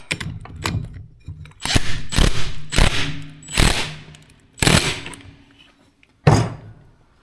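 Sharp metallic knocks while tapping a part into a Yamaha Breeze 125 engine during a rebuild, about six loud irregular hits with short ringing decays, close up.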